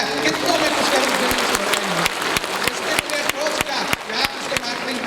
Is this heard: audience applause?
yes